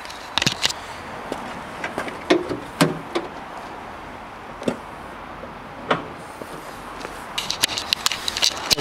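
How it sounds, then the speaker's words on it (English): Bonnet of a black 2009 Vauxhall Corsa 1.2 SXI being opened, with scattered clicks, thumps and footsteps, a latch clunk and rustling handling noises, no talk. "I'm just going to put the camera down while I lift the bonnet up."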